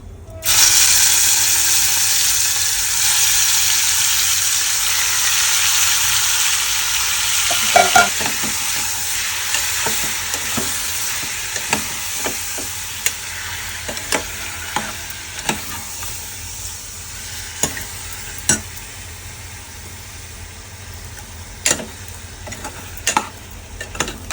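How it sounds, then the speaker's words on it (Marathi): Mutton sizzles in a pan with garam masala for a spicy Malvani mutton curry, a loud steady frying hiss broken by repeated sharp scrapes and clicks of a spatula stirring. "आता याला परतून घेते चांगलं कारण गरम मसाल्याचा वास यायला पाहिजे"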